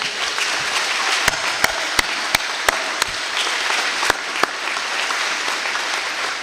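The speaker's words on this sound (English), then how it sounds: "let's give them a huge round of applause for perseverance" Applause from families at a 2021 high school commencement, honouring graduating students: a broad steady wash of clapping with a few sharp, louder claps standing out near the microphone.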